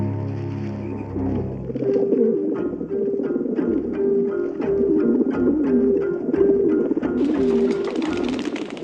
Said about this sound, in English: Never saw a single pigeon before. They've come back.